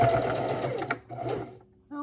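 A sewing machine stitches a pillow, running in a steady buzzing burst, pausing briefly, then resuming before stopping with a short mechanical whir at the end; close and loud, with no talking.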